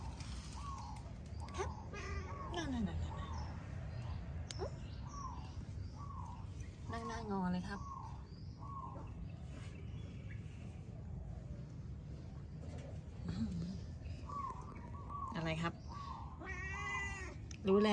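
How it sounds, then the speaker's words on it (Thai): A small kitten on a balcony meows again and again in short high cries, close and fairly clear, while people talk softly nearby. "รู้แล้วว่าเป็นแมว"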